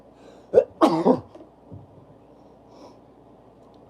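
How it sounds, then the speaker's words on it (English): A sick man sneezes once, a short sharp burst after a quick intake of breath, followed by faint room quiet. "I gotta sneeze."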